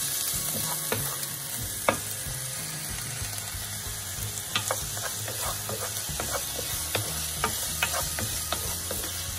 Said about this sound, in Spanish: Lo vamos a sofreír un poquito.